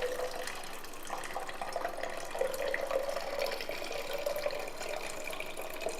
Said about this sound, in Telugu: ఇదిగోండి కొంచెం వాటర్ కూడా పోసుకుందాం.